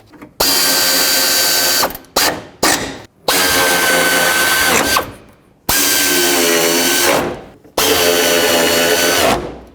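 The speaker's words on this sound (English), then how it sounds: "I'm going to start the bolts in that hold the shroud so it doesn't flop around on me" A power tool whirs in long, loud bursts as bolts are driven into a Toyota Sequoia fan shroud, with short stuttering pulses and brief silences between runs, close up.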